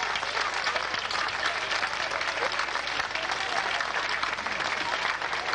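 Steady, dense applause from a festival audience at an Ernica TV Ciociaria showcase event, sustained and even throughout with no pauses, filling the room at a consistent level.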